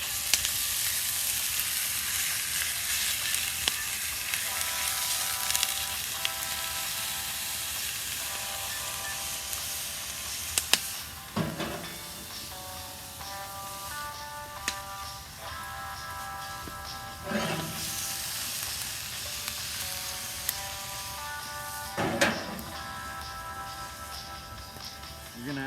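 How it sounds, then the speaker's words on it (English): Half a pound of ground beef sizzles in a pan as it is broken up, a steady crackling hiss punctuated by a few sharp scraping and stirring knocks from the utensil, close and continuous. "we're gonna throw on a half a pound of ground beef into the pan. Break that up a little bit."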